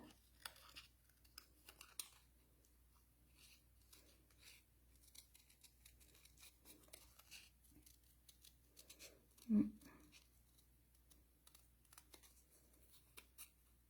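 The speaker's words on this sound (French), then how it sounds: "Là, ici, la roche, je vais la découper." Scissors snip through paper to cut out a rock shape for an ink and torn-paper artwork: faint, scattered clicks and snips in a quiet room, with one louder cut near the end.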